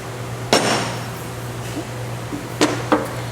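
A dead blow hammer strikes a surface with a few dull single thuds and no bounce. The blows come close and fairly loud over a steady low hum, with no talking.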